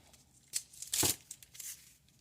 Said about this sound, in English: And then I'm going to tape this so it won't move.